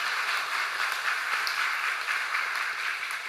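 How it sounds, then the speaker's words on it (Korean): A church congregation in Korea applauds after a baptism ceremony during a Sunday service, a steady, dense wash of many hands clapping together, sustained evenly throughout with no voices over it. "우리 박수로 축하하도록 하겠습니다"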